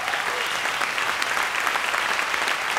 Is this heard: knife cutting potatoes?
no